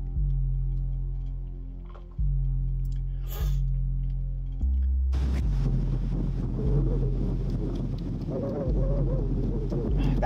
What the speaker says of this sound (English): That wind in the background, which is very bad.